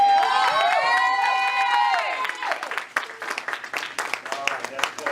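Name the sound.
congregation hand clapping in praise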